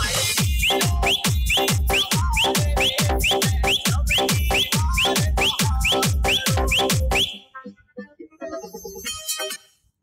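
A whistle sample in an FL Studio Mobile DJ remix repeats as short rising chirps over a pounding beat, loud and rhythmic, then the track drops out and leaves sparse scattered notes.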